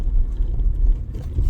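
A ranger's vehicle rolls along a dirt road in Beaver Dam Wildlife Management Area, a close, steady low engine rumble with a faint gravelly texture and no voices.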